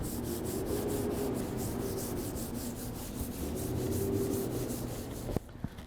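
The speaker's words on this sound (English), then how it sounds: "I'm gonna come up to the paint, feel the paint with my glove, and I want you guys to hear the raspiness of it." Gloved hand rubbed back and forth over rough, contaminated BMW car paint, a faint, steady raspy scratching in rapid strokes, ending with a soft knock.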